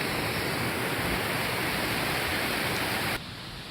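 Frozen Creek flows beside a hiking trail in a dense, steady rush of water close by. It drops abruptly to a quieter hiss near the end.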